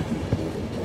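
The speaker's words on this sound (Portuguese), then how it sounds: "Trem fantástico." A train passing in the video game The Final Station, a short steady rumbling rail noise with a faint clack in the middle, heard alone.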